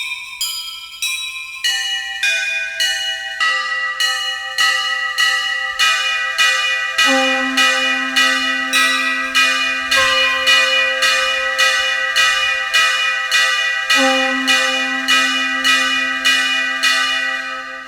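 A temple bell tone from a Roland XPS-10 keyboard strikes in a steady, evenly spaced series, each bright metallic ring decaying into the next, with a low sustained note entering partway through, loud and clear without voices.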